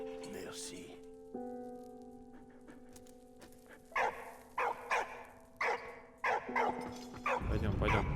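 A dog barks in the World War I game Valiant Hearts, a string of sharp evenly spaced woofs over a sustained musical tone and steady rain, growing into a louder noisy burst at the end.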